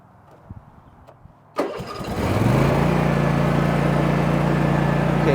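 A zero-turn mower engine cranks briefly after a few faint clicks, catches and rises quickly to a loud, steady full-throttle drone, heard close by with no talking.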